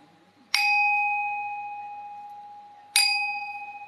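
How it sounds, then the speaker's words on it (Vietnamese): A meditation bell is struck twice, each strike a clear close metallic ding with a long sustained ring that slowly fades, the second hit landing a few seconds after the first. "Bây giờ để thầy gõ lỡ 3 tiếng chuông khác mới được."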